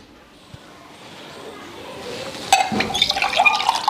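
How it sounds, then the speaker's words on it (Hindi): Water pours into a steel drinking glass, a faint trickle building into a louder splashing fill with bright metallic ringing near the end. "ये पानी हम स्टील वाले गिलास में कर लेते हैं"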